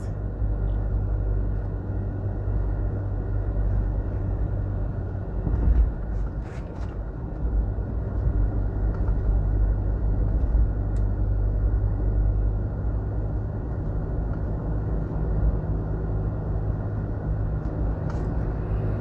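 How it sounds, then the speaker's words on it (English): A car cruising along the Northern Coastal Highway in Jamaica, heard from inside as a steady low engine and road rumble that holds even for the whole stretch, with a few faint knocks and no talk. "So we're driving on the Northern Coastal Highway."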